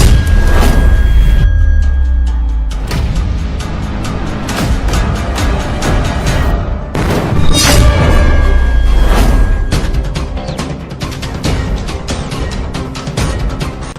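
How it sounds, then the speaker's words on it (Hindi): Bomb blasts going off at a border post, a loud, dense rumble of booming explosions with deep low-end thuds, one heavy burst in the middle and sustained roaring debris noise throughout. "ये बॉर्डर पर बम ब्लास्ट कैसे हो रहा है?"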